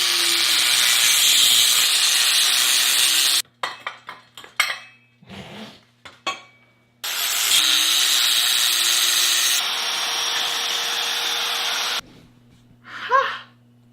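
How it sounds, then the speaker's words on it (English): Metal is cut for drift trike pegs: loud, steady grinding-like cutting bursts alternate with sharp clanks and scraping handling noises during pauses, the cutting heard up close. "we'll chop a piece off, then we'll weld it around the nut"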